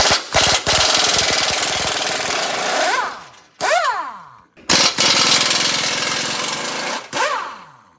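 Impact wrench removing lower A-arm bolts on a 2018 Ford F-150 EcoBoost front suspension: loud rattling bursts, three long runs with brief pauses, each ending in a falling whine as the tool spins down.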